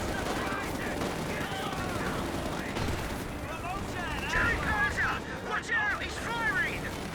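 Battle in Company of Heroes 2, with scattered gunfire, tank shots and mortar impacts crackling at mid distance in an uneven stream under a commentator's continuous talk.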